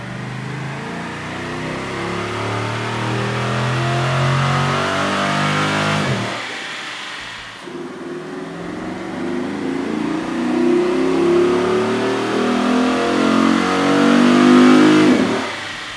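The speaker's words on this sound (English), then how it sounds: "With the air intake installed, we ran the vehicle on the dyno to test the sound comparison versus the stock intake." Dodge Challenger SRT8 with a 6.4-liter V8 and an aftermarket air intake revving on a dyno, a loud, close engine rising steadily in pitch, dropping briefly at about six seconds, then climbing again to a strong peak near the end.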